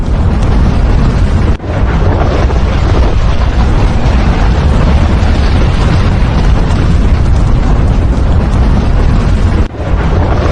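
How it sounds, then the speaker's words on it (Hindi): Flames bursting explosively from the ground, a loud, continuous roaring blast filling the whole recording with heavy rumble and wind-like buffeting, no speech. "और इसको देखिए जरा कैसे धमाका हुआ।"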